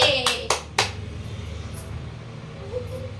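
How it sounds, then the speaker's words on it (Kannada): Three quick hand claps in a row, close by in a home, followed by a low steady hum with no further claps. "ಚಪ್ಪಾಳೆ."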